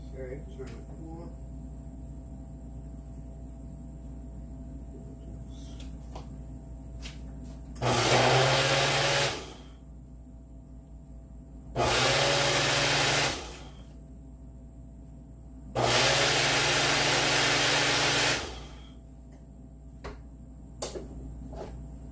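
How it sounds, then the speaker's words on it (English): A high-powered kitchen blender runs in three loud bursts of a few seconds each, separated by pauses, with its roaring motor whir dominating over a quiet room background. "I got that in my blender. I'm gonna blend it"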